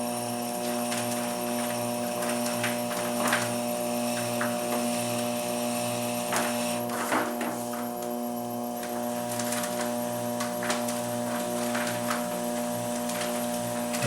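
Wheel-thrown pot being trimmed with a trimming tool on a spinning potter's wheel, a steady motor hum with tonal whine under intermittent scraping rasps as clay is shaved away, close and moderate throughout.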